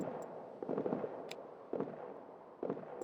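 Suppressive gunfire in the trench-warfare video game All Quiet in the Trenches, a few distant crackling volleys spaced about a second apart over a low battlefield rumble.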